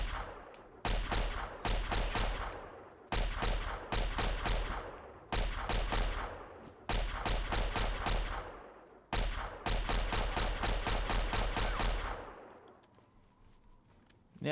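Laser pistol fire from Fallout 3 crackles in loud sustained bursts, about seven long volleys separated by brief pauses, then a quieter tail of scattered noise at the end.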